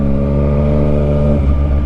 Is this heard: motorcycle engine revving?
yes